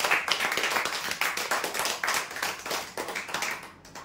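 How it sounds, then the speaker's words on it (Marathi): Loud applause from a crowd gathered at a prize-draw event, dense rapid clapping that swells and fades over a few seconds, with no talk over it. "जोरदार टाळ्या होऊ द्या।"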